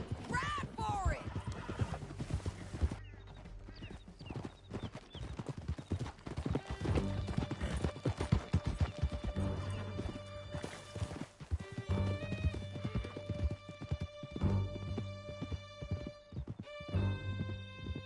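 Horse galloping in Red Dead Redemption II, a steady rapid clip-clop of hooves with occasional neighs and whinnies, close and loud throughout, mixed with game music and voices.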